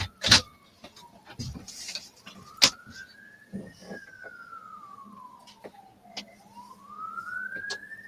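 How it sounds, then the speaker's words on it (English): A wailing paramedic ambulance siren rises and falls in long sweeps at moderate distance, punctuated by a few sharp clicks and knocks nearby. "Paramedic ambulance."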